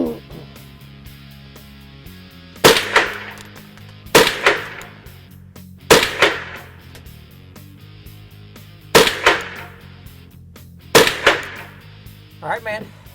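Five sharp shots from a .22 long rifle ring out at a shooting range, spaced about two seconds apart, each with a crisp crack and short echo over a steady low background hum.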